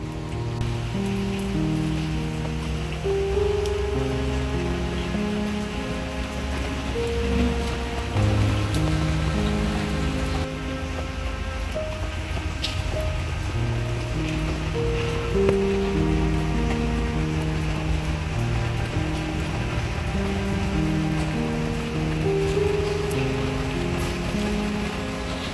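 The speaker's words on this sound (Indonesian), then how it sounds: "Di sini lagi gerimis ya, dari tadi siang hujan mulu dan gerimis belum selesai-selesai." Light drizzle that has dragged on since midday, falling on and around an old, fragile house, with a soft continuous patter of drops over a low background hum that stays at a steady level throughout.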